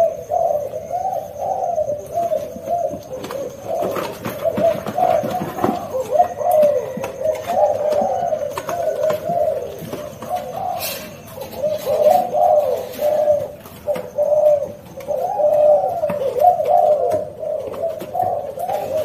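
Caged pigeons or doves coo steadily and close, in repeated rhythmic phrases with little pause between them, over faint background noise.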